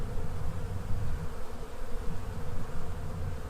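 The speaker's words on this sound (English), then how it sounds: "There's quite a bit of bees on there" Honey bees swarm over a brood frame in a colony with laying workers, a dense, continuous close-up buzz with no voices.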